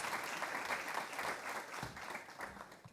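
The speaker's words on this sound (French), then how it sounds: "On peut les applaudir." An audience at a church sermon bursts into dense, continuous applause. The clapping is loud and close throughout, with a faint murmur of voices underneath.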